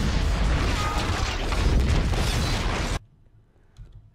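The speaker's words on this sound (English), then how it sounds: "Now I did hear an explosion." Explosion in the Minecraft video game with the Invasion mod: a dense, roaring blast of noise holds for about three seconds, then cuts abruptly to near silence with faint sounds afterward.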